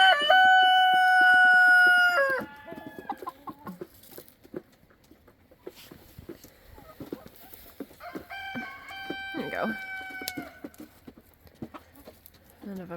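Loud rooster crow at the start, then scattered clucking and scratching around poultry water cups, with a second, softer crow partway through amid faint voices.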